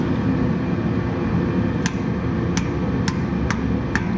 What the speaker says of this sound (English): I got my handy dandy hammer, and we're just gonna bop it back in.